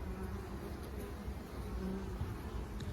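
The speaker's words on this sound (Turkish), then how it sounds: "arılarım polen getiriyor" Honeybees hum steadily around the hive entrance as foragers return carrying pollen in the evening after rain, a soft, even buzz with no talking.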